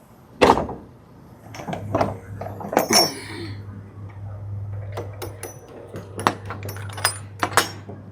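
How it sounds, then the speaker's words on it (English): Truck doors are shut one after another, sharp thuds and metallic clanks scattered over several seconds, with a low steady hum of the truck running underneath and faint clinks between the bangs. "let's shut our doors up so we can roll out"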